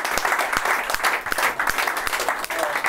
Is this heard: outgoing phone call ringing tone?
no